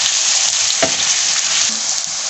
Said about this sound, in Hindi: प्याज को हमने हल्का सा ब्राउन करना है। प्याज हमारा गोल्डन होना शुरू हो गया।